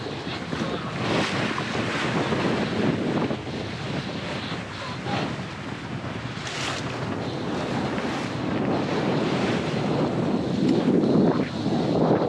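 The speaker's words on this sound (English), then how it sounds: "there's a little bit of wind" Steady wind roaring across the microphone on a sailboat under sail, with rushing water and waves beneath, continuous and loud throughout, no voices.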